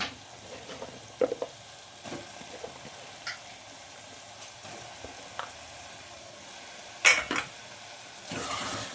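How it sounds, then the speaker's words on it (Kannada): Moringa drumstick pods fry in a pan for a gojju: a quiet, steady sizzle, broken by a few sharp clinks and scrapes of stirring. "ಎರಡು ನಿಮಿಷ ಫ್ರೈ ಮಾಡಬೇಕು"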